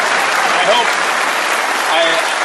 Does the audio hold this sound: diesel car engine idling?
no